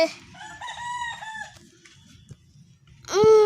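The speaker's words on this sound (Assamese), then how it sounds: "এইগিলা আছে মুৰ্গীৰ ঘৰটো মানে কিবা লোকেল মুৰ্গী" Local chickens in a farmyard chicken house give a loud rooster crow that trails off, then soft low clucking and scratching, and a second sharp crow bursts in close at the end.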